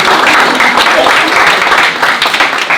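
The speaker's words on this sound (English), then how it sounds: "Let's give Andrew another round of applause." Audience at a book launch clapping together in a brief, close burst of applause with a few voices mixed in.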